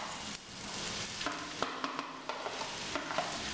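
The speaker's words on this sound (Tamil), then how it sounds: "இது பீட்ரூட் நல்லா வதங்குற வரைக்கும் கொஞ்சம் நேரத்துக்கு கிண்டி விடணும், அடுத்த சிம்மில் வச்சு" Beetroot sautés in a pan with a steady background sizzle, broken by repeated scraping and tapping strokes of a spoon stirring it, close and alone without speech.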